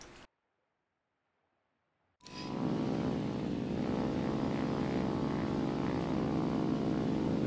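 Propeller aircraft engine in the War Thunder game, a steady loud droning hum with strong harmonic buzz that starts abruptly after a short silence and holds constant.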